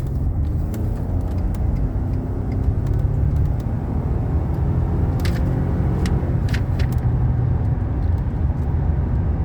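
A car with 124,000 miles accelerates hard while merging onto a highway, giving a steady loud engine and road rumble heard from inside the cabin, with no talk.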